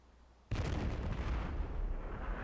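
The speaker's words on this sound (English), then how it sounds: "He survived getting shot with a cannon." A cannon blast in the video game Jade Empire cuts in abruptly as a loud booming explosion, followed by a sustained roaring rumble that stays heavy to the end.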